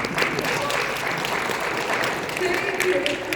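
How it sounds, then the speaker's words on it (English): Applause from an audience at a PAX East 2023 convention panel on VTubing, dense sustained clapping filling the room for a few seconds. "I will hold for applause for that transition."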